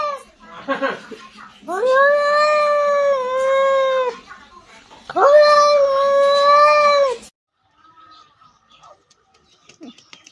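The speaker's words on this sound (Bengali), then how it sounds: "দেখো একটা বিড়াল ঘোরাঘুরি করছে" A cat gives two long, loud, drawn-out yowling meows, each lasting a couple of seconds, followed by quieter background sounds.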